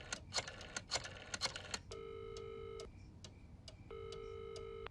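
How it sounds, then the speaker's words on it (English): A telephone being dialed in a dramatized radio-style scene, with a quick series of clicks or keypresses and then two steady ringback tones on the line, alone with no voices. "I need to make a phone call."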